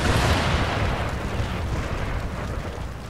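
Heavy rumbling artillery fire in the game Empire: Total War, a loud, dense wash of booming that slowly fades, with no talking over it.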